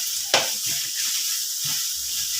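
Pickled mustard greens for a stir-fry with egg hiss and sizzle steadily in a hot pan, with one sharp scrape of the spatula near the start and soft stirring knocks after it, and no one speaking.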